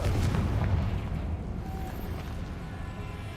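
A Confringo spell blast in the video game Hogwarts Legacy: a loud, booming explosion that rumbles strongly at the start and then decays slowly over a few seconds, with no talk.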